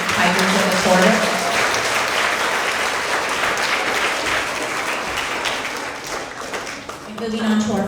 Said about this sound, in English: let's have another round of applause for all of our third-grade Tigers of the Quarter.